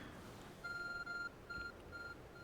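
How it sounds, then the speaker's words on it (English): Short electronic beeps from a glowing, phone-like object in Pokemon Legends, in a bright, steady tone, repeat in three bursts over a constant low hum. "There's a glowing, beeping object over there."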